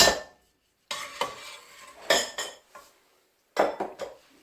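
Diced potatoes tipped into a pot of melted butter for wild garlic soup, heard as several separate bursts of clattering, scraping and stirring against the pan, with short silent gaps between them and no voices.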